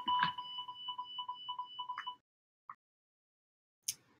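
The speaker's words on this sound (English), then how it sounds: "Something's beeping." A quick series of thin electronic beeps repeats rapidly for about two seconds, followed by a couple of short clicks in near silence.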